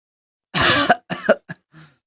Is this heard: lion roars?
no